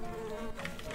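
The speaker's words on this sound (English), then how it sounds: "Bees." Insects buzz in a dense, continuous drone in the video game Secrets of Gindea, steady and fairly close throughout the short moment.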